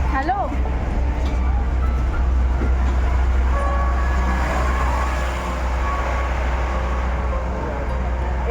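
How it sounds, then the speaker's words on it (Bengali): A trackless tourist train runs past with a continuous low engine rumble and drone, steady and fairly close, with murmuring voices in the background. "ট্রেনের কোনো রেল লাইনের দরকার হয় না দিব্যি সুন্দর চলছে"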